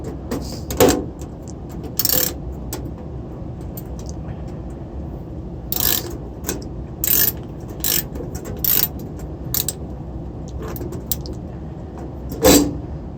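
Screws driven into a stainless steel ducted range hood duct, a series of short sharp mechanical bursts, several of them loud and close, with quieter clicks in between.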